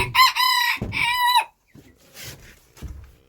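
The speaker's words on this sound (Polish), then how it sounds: "Tutaj kogucik sobie chodzi" A rooster crows loudly twice, close by, among chickens in a farmyard, followed by softer clucking and faint rustling.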